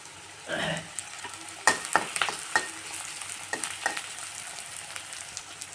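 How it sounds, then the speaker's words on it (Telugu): Onions and green chilies fry in a pan over a medium flame for an ivy gourd coconut fry. A constant close sizzle runs under a string of sharp spatula scrapes and clicks as they are stirred. "ఉల్లిగడ్డ 2 మినిట్స్ వేగాక పచ్చిమిర్చి వేసుకోవాలి."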